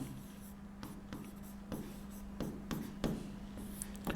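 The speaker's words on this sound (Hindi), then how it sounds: "इसको शब्दों में लिख रहा हूं" A chemistry formula being written out in words, probably chalk or marker on a board, giving steady rhythmic scratching strokes and sharp taps over a low constant hum, fairly close and with no speech.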